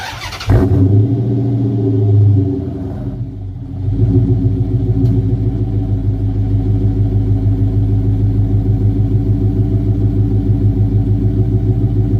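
A car's exhaust rumbling loud and close: a low throaty idle, a rising rev that drops away, then a steady deep burble held alone to the end.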